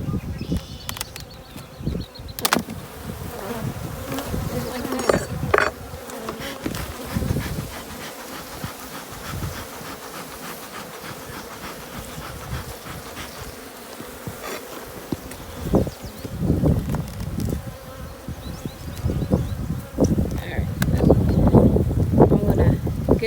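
Honey bees swarm and buzz around their hives in an outdoor bee yard, a steady dense insect hum close to the microphone with occasional louder passes and some wind buffeting, with no talking.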